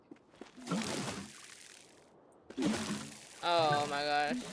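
Watering plants in the video game Grow: Song of the Evertree, two splashy pouring bursts followed by a bright chiming tone, with a short quiet gap between them.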